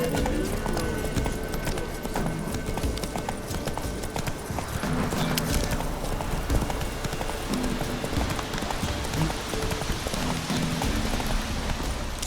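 A horse's hooves gallop in The Witcher 3, a steady rhythmic clip-clop close and clear across the whole stretch over faint ambient background, with a brief voice now and then.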